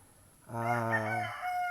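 A straight-comb rooster lets out a single close, loud crow lasting about a second, with quiet background before and after.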